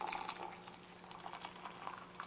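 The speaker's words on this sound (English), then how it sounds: "Pour your water always in circle so the heat is even" Water being poured in a circle over Huangshan Maofeng green tea leaves, a soft steady liquid trickle and splash running throughout at low level, close by.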